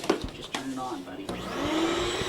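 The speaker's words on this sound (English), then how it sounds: "Jack, could you turn on the vacuum, please" A vacuum cleaner motor whirs up, its whine rising and steadying, with a brief voice near the start.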